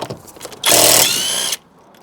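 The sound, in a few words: cordless Makita-style power tool undoing brake bolts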